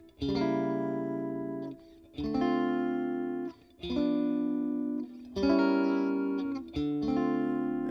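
Sustained gospel chords on a processed, effect-laden guitar, struck in four long rings with brief gaps, moving through a progression that includes a diminished seventh, without any voice.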